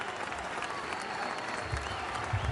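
Crowd at the Premadasa stadium applauding a departing batsman in a Pakistan vs Afghanistan cricket match, a steady wash of distant clapping filling the whole moment, with faint commentary beneath.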